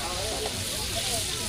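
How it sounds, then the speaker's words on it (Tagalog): Food frying in hot oil at a home cooking session, a steady close sizzling hiss filling the short stretch with no pauses. "Ito, prito lang to, prito."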